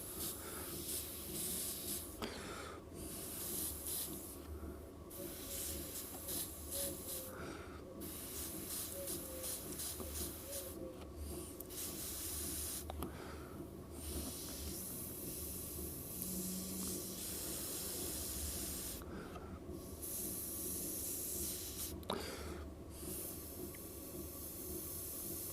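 An airbrush sprays paint in steady hissing bursts, starting and stopping several times with short pauses between passes, fairly close and alone.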